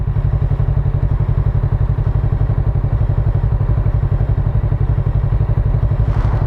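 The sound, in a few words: Kawasaki Z650RS motorcycle engine running at standstill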